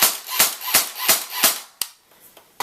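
An airsoft gun powered by an 8.4 volt, 600 mAh battery fires a quick run of five sharp, loud shots, then a couple of isolated pops after a short pause, with no talking.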